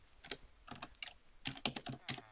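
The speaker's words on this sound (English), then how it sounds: "I know, I just like typing." Keystrokes on a computer keyboard tap out in quick, uneven clusters, close up and clear, with a faint hiss behind them and no voices.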